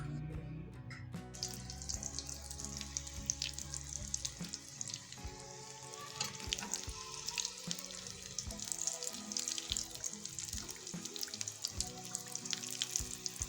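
Homemade veg spring rolls frying in hot oil, a steady soft sizzle and bubbling that runs unbroken throughout, fairly quiet, with no one talking.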